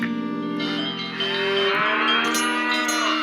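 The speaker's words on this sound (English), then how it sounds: "That's the sound of happy cattle, healthy cattle" Cattle mooing in a radio ad in the Nancy Drew game Secret of Shadow Ranch, long drawn-out lowing calls, one deep moo followed by a rising, overlapping bellow, loud and close with no talk.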